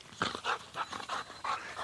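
A dog pants in rapid, rhythmic breathy bursts during fetch and tug training, about five huffs in under two seconds, close and fairly loud, with no talking.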